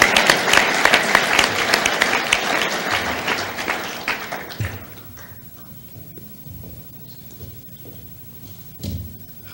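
An audience at a Rotary club meeting applauds a refinery speaker, a loud burst of clapping for about four seconds that quickly dies away, followed by scattered knocks and room noise.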